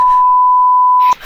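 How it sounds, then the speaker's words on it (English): A loud, steady censor bleep runs for about a second to cover speech, then cuts off abruptly into a brief burst of noise. "beep out what I'm about to say."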